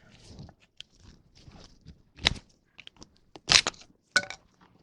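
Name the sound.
prying out brittle grease shield from Austin Mini front hub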